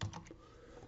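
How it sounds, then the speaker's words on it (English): A few quick computer keyboard keystrokes, close and faint, last under a second. "So now if I type Bob in here, it says say hello Bob."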